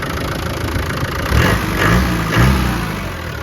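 A 1997 Land Rover Defender 90 with the 300Tdi diesel engine idling in a steady, moderately loud low rumble, with slight swells in level partway through and no talk.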